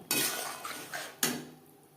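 Eggplant pieces drop into a pan of fried spice paste for a fish curry, giving a sudden sizzle with clattering utensil and pan knocks, then a second sharp clatter as the hiss fades, close and moderately loud.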